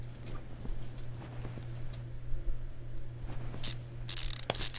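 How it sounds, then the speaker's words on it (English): Removing a car's drive shaft in the video game Car Mechanic Simulator: quiet mechanical ratcheting and clicking over a low steady hum, with a brighter whirring burst toward the end. "Remove the drive shaft."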